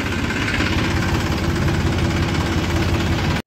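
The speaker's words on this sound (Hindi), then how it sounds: "ट्रैक्टर लेके आ गए हैं जी," A tractor engine idles on a farm, a loud, steady, close rumble with an even low knocking throb that runs unbroken for several seconds and then cuts off abruptly at the end, with no talk over it.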